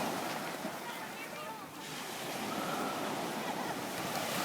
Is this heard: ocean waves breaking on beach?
yes